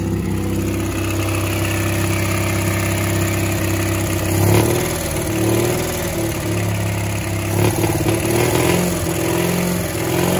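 A Panhard Dyna X engine cranks and runs roughly, misfiring with uneven bursts and stumbles over a steady low drone, close and loud throughout.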